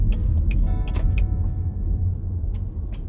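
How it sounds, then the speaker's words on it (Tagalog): Road traffic near a tourist area in Edmonton, Alberta, with steady low car rumble throughout and a few brief higher clicks and squeaks over the top, no talking. "Traffic yata guys"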